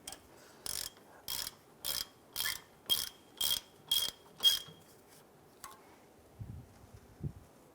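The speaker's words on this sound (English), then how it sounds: "I'm going to go ahead and snug these down with my ratchet." Ratchet snugging bolts during a rear brake job on a 2012-2017 Toyota Camry, about eight quick crisp clicking bursts in an even rhythm, close and clear, followed by a few soft taps.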